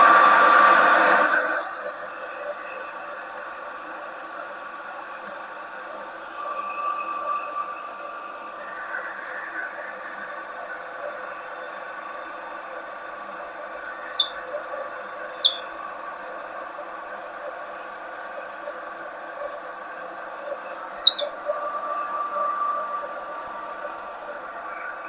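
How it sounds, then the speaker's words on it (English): A noisy gearbox-driven machine with big hardwood bearing blocks, starting with a loud surge and then running as a steady whirring drone, with occasional clicks and squeaks and a rattling, chattering stretch near the end. "So it is quite a noisy machine"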